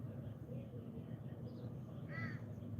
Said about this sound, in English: Oh, it's the Black Crows.